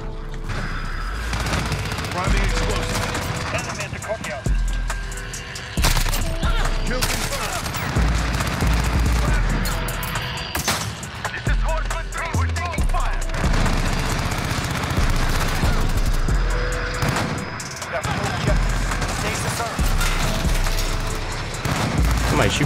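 Loud, dense gunfire bursts and booms fill a Call of Duty Modern Warfare match, with rapid automatic shots and low thuds repeating throughout and voices talking over the action.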